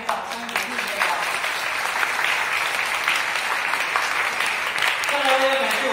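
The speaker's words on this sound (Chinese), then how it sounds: "给她一点掌声鼓励一下" Wedding guests clap at a reception after the couple's thank-you speech, a sustained close round of applause filling the room, with voices faintly audible underneath.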